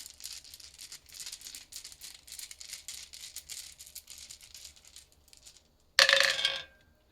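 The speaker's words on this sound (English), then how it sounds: "We're just going to do the dice." Dice shaken in a cupped hand give a steady, rhythmic rattle for several seconds, then a short pause and a loud clatter as they are rolled out onto a surface. The sound is close and there is no talking.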